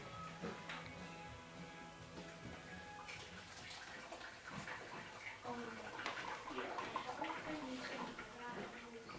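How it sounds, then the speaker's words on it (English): Corn and milk liquid pours and splashes steadily through a colander into a pot, continuous and close, with faint dripping and clatter throughout. "So now we're going to pour it into the colander"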